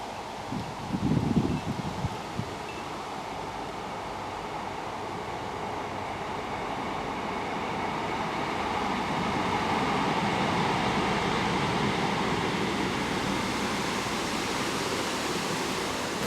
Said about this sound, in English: I've been here maybe 5 minutes and 4 trains have gone past already